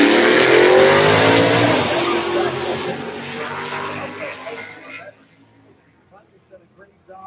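Race cars roar loudly side by side at a Mickey Thompson Turn & Burn drag event, including Israel Smith's Ranger combat pickup truck, engines rising then fading into the distance while an announcer talks over the noise.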